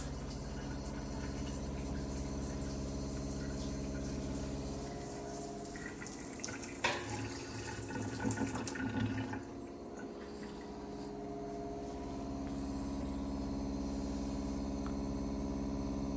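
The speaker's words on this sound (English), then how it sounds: "you can hear the filter kick on once the pressure drops" A steady mechanical hum of water running through a Frizzlife PX500 reverse osmosis filter as it kicks on when pressure drops, with a brief burst of spraying water in the middle before the drone settles back in.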